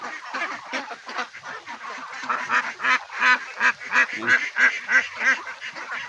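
A flock of farm-raised ducks fed rice bran and banana stalks, quacking loudly and continuously in a close, overlapping chorus of rhythmic nasal calls, with no talking.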